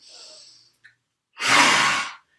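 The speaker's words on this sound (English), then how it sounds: "So make that good rasping sound in the throat as well." A loud, rasping breath forcefully exhaled through the throat in yoga's lion breath, a single long burst following a softer inhale, heard alone.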